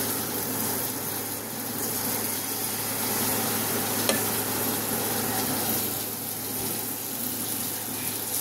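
Palm fritters (taler bora) made with sugar and semolina batter sizzle steadily in hot oil, a continuous hiss with soft bubbling and a faint tap or clink midway, no voices.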